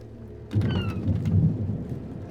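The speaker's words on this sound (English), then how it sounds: "The storm's getting closer." Thunderstorm with a sudden low rumble of thunder rolling in over steady rain, fairly close and sustained for a couple of seconds before easing.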